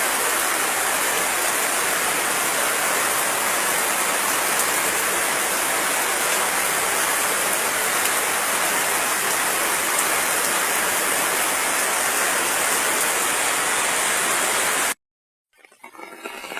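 Heavy rain pours steadily and loudly in the Philippines, a dense unbroken hiss of falling water that fills the scene for about fifteen seconds before cutting off abruptly, followed by a faint rising rustle.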